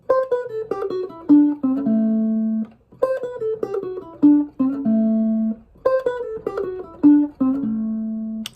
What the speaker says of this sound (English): So here's the first passage using the same notes that we just learned.